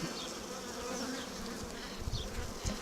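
Bees buzz steadily and close around a queen push cage, a dense continuous hum with individual wingbeats drifting past.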